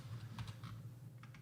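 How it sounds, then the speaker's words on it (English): Keys tapped on a computer keyboard in a few quick soft clicks, faint and close, over a steady low electrical hum. "I'm gonna type"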